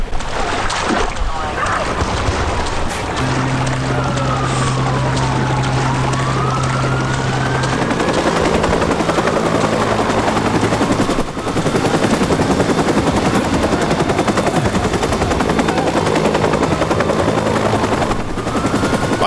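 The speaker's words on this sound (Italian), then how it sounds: "Guarda che mi venite a prendere anche con l'elicottero," A police helicopter in the video game Watch Dogs thrums continuously with a steady rotor drone and engine whine, loud and close, while gameplay effects and music shift around it.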